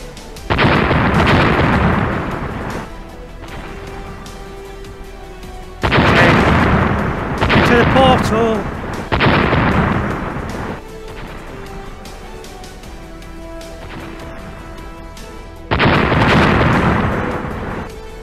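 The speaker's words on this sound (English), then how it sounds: "We're being attacked by jets." Jets attack with repeated gunfire bursts and heavy explosions in a VR fitness game played while cycling, four or five loud booming blasts separated by quieter rumbling gaps with faint tonal game sounds.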